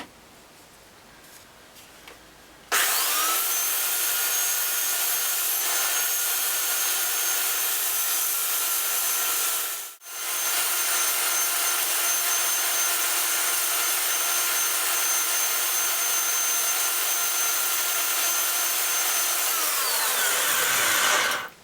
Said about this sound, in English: file it back using the power file